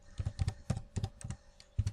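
Typing on a computer keyboard while entering an install command on an Ubuntu system: quick clusters of crisp, close key clicks in an uneven rhythm, with short pauses between bursts and no talk.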